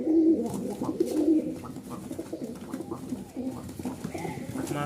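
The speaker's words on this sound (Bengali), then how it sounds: "মাথা নষ্ট ডাক সবগুলার" Several pigeons, including Lahori birds, coo repeatedly and close by in a backyard loft, forming overlapping low throaty calls that continue throughout.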